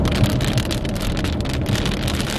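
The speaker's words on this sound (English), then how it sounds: "it's raining in Atlanta right now" Steady rain falls in Atlanta, a dense continuous hiss of drops patting on surfaces, fairly loud and even throughout with no voices.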